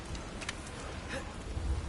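Stormy weather in God of War Ragnarok, a dense, steady rush of rain and wind filling the scene with a low rumble beneath, fairly soft and continuous.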